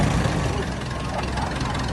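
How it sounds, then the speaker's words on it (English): A 1930 early Case tractor engine runs smoothly at an antique gas and steam engine show, a loud, dense low rumble that holds steady throughout, with no clear talk over it. "Running very smoothly. Early Case tractor, 1930."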